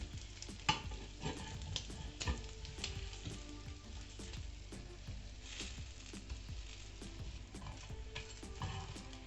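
Folded veechu parotta fries in oil on a flat pan, producing a soft, steady sizzle with frequent small scrapes and taps from turning, quiet and close.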